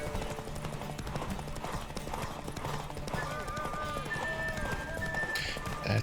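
A horse gallops in The Witcher 3 during a horse race, its rapid hoofbeats drumming steadily throughout. Game music and effects play along with it, and a voice talks over the top.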